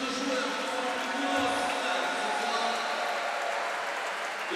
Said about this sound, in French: on l'a entendu chaudement applaudi Sorosabal